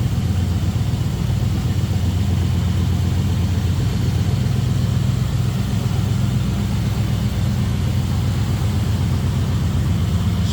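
A 1973 Dodge Charger with a 400 four-barrel V8 idles smoothly and steadily at close range, a dense, even low-pitched burble with no speech.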